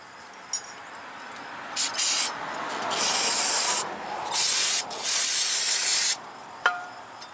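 Brake cleaner sprayed from an aerosol can onto the front brakes of a 2005 Chevy Aveo, a close, loud hiss in several bursts, with a couple of short spurts and then three longer sprays, plus small clicks around them.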